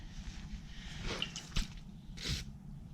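Contact cleaner squirted from a can onto a rag while cleaning rubber parts of a YZ250F motorcycle, giving a few short, soft hissing squirts and wet squishes, close and fairly quiet.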